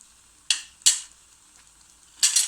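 Onion and yoghurt egg gravy with roasted onion cooks over a low flame, giving off a few short, soft sizzling bursts separated by near-silence.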